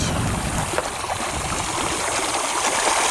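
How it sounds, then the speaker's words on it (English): Irrigation water rushing steadily across a flood-irrigated field, a continuous close gurgling and splashing flow without pause. "we're getting a pretty good amount of water coming out here"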